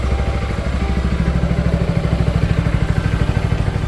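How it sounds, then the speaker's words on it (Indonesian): A modified Yamaha XMAX scooter idles at around 1500 rpm, close and loud, with a rapid, even, throbbing engine pulse and a faint rattle running steadily throughout. "Lihat motornya kenceng banget, kondisi lamsam. Ini idle ya? 1500 rpm."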